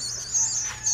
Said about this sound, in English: there are some very hungry baby birds making a lot of racket in this barn